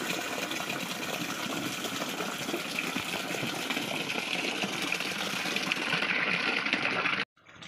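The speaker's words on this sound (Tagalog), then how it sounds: "lalagyan na po natin yung tubig, yung kanilang inuman" Steady, continuous gush of water filling a pig drinker, loud and close, running unbroken for several seconds before cutting off abruptly near the end.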